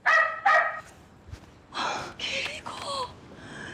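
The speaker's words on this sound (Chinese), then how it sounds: "你这狗叫声可不可以换掉啊？" A recorded dog bark set as a phone ringtone sounds twice in quick succession, loud and close, followed by people talking.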